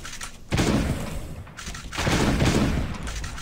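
Fully modded shotgun firing spread shots in the mobile survival game Last Day on Earth, a dense barrage of overlapping blasts and booms in two bursts separated by a brief lull.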